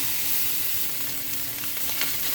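Sausage and onions sizzling in a pot as they are stirred, giving a dense, steady frying hiss close up with no voices.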